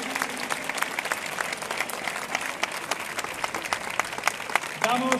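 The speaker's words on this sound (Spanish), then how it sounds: "Un aplauso a todos por venir." Crowd applause at an outdoor hospitality-sector demonstration, with gyms, travel agencies, entertainment and shops also rallying; steady dense clapping throughout, with a voice speaking over the end.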